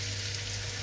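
Garlic and spring onion frying in hot oil in a pan, a steady close sizzle with no pauses, used while cooking hake in green sauce.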